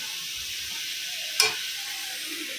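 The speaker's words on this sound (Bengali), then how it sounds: "লঙ্কা আর সাথে একটু হলুদ গুঁড়ো লবণ দিয়ে শাক ভাজাটা বসিয়ে দিলাম" Leafy greens frying with chili, turmeric and salt in a pan, a faint, steady sizzle with one sharp stirring scrape in the middle, quiet and close with no voices.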